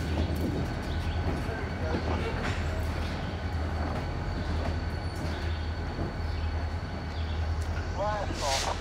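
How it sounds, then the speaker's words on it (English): A diesel-hauled RJ Corman train drags six loaded coal cars up a grade after a derailment, a continuous low rumble and grind with faint wheel squeals near the end, with someone speaking over it. "here comes the train up the hill"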